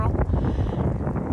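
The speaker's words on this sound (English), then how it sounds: "it's very windy, so it's cold" Strong, cold winter wind buffets the microphone on a forest hiking trail in Buchanan State Forest, Pennsylvania, with a low, rumbling roar, gusting unevenly throughout.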